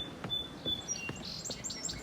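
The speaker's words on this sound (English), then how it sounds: "that's our sparrow over there singing" A sparrow sings outdoors in a garden, giving short high chirps and tweets that come and go over soft background rustle, moderately distant and fairly faint.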